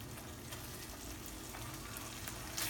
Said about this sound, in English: I put some butter in the pan, and I'm starting to saute the fillet